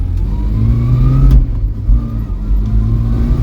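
A barn-find Vauxhall Viva with a new clutch plate and pressure plate drives off, its engine revving loud and close, rising in pitch, easing briefly and then pulling up again.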